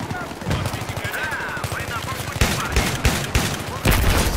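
Rapid automatic gunfire in the video game Battlefield 3, loud bursts and rattling shots that repeat throughout over a busy, noisy game soundscape.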